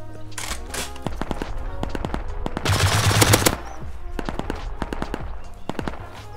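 Automatic gunfire in the video game Rust, rapid bursts of shots with a dense sustained volley in the middle, loud and close, with someone talking over parts of it.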